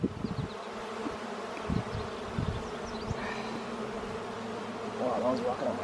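Honeybees buzzing around an open beehive during a week-seven hive inspection, a steady close droning hum with occasional louder passes near the microphone and faint handling knocks.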